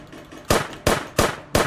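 Weapons firing in an alien-versus-zombie shooter game made in Unity, four sharp, loud, evenly spaced synthetic shots with short decays, close and without talk.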